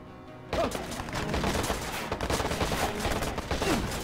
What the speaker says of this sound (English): What are you shooting me for?